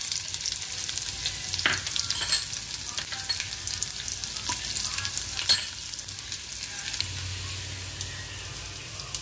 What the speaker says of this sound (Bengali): যে আলুগুলো কেটে রেখেছিলাম সেই আলুগুলো দিয়ে অল্প ভাজা ভাজা করে নেব